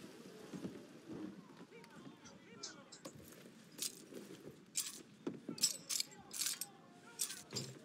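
Keys jangle and clink in a video game as repeated bright metallic rattles in the second half, amid wind-like rushing, footstep-like thumps and other game sounds, with voices heard as well.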